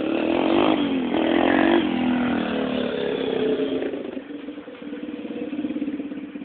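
A dirt bike with its clutch lever broken off rides through grass, its mid-pitched engine droning loud and close, rising and falling as it revs and eases off.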